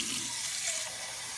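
Cold water runs steadily from a kitchen tap, a continuous close splashing hiss with no talk, filling a container for a milk temperature test on a Nespresso Creatista Plus.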